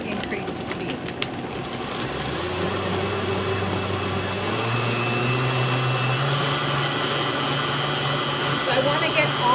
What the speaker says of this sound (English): I want to get all the solids of the watermelon blended up really well.